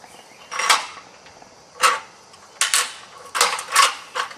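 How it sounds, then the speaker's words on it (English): A black walnut cracker machine cracking a macadamia nut with a set of rams: several sharp, bright mechanical cracks and creaks, roughly five separate bursts spaced irregularly, fairly close and clear with no talking. "As you can see, the machine will crack a macadamia nut very easily."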